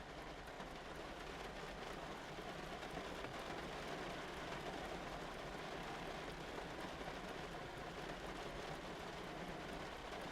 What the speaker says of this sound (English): the rain is rushing down outside